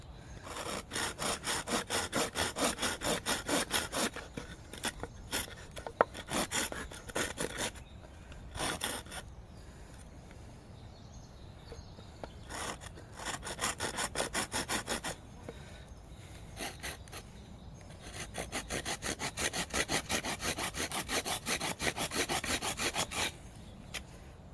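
Hand saw making kerf cuts on each side of a wooden piece being carved, bursts of quick rasping strokes up close separated by short pauses, steady and alone without speech.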